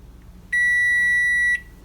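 A kitchen timer on the stove sounds one steady, shrill electronic beep lasting about a second, clear and fairly loud over a quiet room while agar dissolves for vegan cheese.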